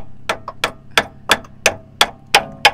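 Big rock used as a hammer on the quick disconnects of a Jeep Gladiator Sport with rock crawler suspension, striking about eight sharp, regular metallic knocks close by.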